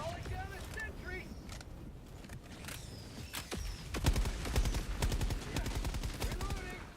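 Rapid bursts of automatic gunfire from a deployed sentry turret in Helldivers 2 rattle through the second half, loud and dense over battlefield clatter and distant explosions, with voices calling out earlier.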